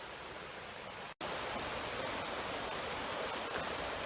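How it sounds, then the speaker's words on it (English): Steady rain pours on a wet mountain stretch of the Appalachian Trail between Hot Springs, North Carolina and Erwin, Tennessee, a continuous close hiss broken by one brief dropout, with no talking. "And as you can tell, it's raining on us."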